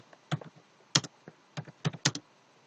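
Quiet, close computer keyboard typing in short irregular clusters of clicks with brief pauses between them, no voices.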